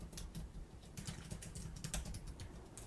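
Someone types out a script on a computer keyboard, producing rapid, continuous key clatter up close that carries on evenly for the whole stretch, with no talking.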